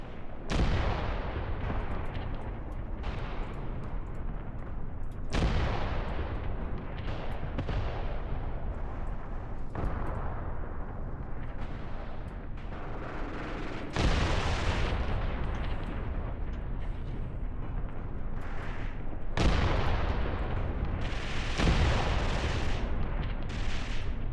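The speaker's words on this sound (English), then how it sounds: "Lots of MG fire." Sustained machine gun and artillery fire in the Graviteam Tactics war game, dense and loud with repeated bursts and heavy booms layered throughout, no talking.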